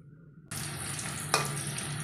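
Salted fish frying in a pan: a sudden, steady close sizzle starts after a brief quiet moment, with one sharper crackle partway through and no talking.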